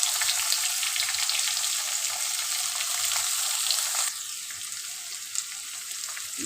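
Asafoetida powder and onions crackle in hot tempering oil, a steady close hiss that softens slightly partway through, with one small clink of a utensil near the end and no voices.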